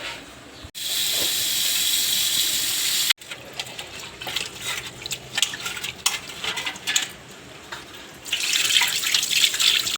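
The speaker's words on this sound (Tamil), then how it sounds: "ஃப்ரிட்ஜில் இருந்துச்சு அதனால் இப்போ ஒரு வாட்டி அலசிக்கலாம்" Tap water runs over chicken being rinsed in a sink, a steady close splash at first, then broken sloshing and handling noises, before the stream runs steadily again, with no talking.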